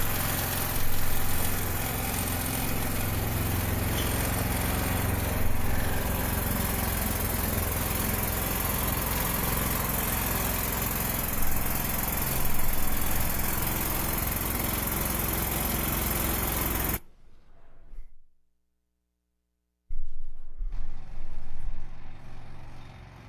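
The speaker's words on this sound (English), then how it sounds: "here's the engine running" A small engine running on gasified charcoal drones steadily and loudly at close range for most of the clip, then cuts out to near silence for a few seconds before the noise returns.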